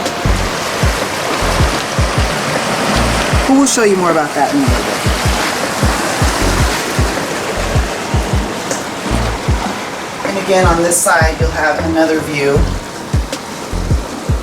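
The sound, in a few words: ocean waves crashing against boulders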